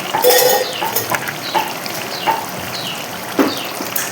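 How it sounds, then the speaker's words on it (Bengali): Long-sliced onions frying in a pan for a Ganges kajli fish curry, with a steady sizzle broken by several clinks and scrapes of a spatula stirring against the pan. "আর সাথে এই যে লম্বা লম্বা করে পেঁয়াজগুলি দিয়ে দিচ্ছি অল্প"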